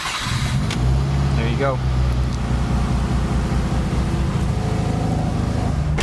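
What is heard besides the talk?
Subaru car engine starting and idling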